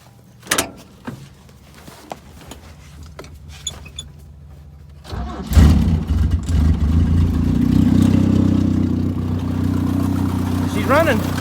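A Toyota Wolverine engine turns over and catches after a fuel pressure regulator repair, preceded by scattered clunks and knocks; it rises into a loud, steady running rumble that holds to the end, with a brief squeal near the close.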